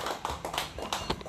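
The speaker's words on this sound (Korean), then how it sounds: "이재춘 전 러시아 대사님한테 큰 박수 한번 주시고" Applause for a former ambassador after a lecture, a handful of distinct, fairly close hand claps spaced irregularly over just over a second, sounding like a small room rather than a large crowd.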